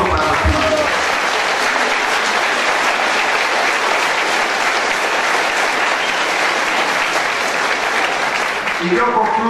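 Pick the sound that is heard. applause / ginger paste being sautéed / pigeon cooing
applause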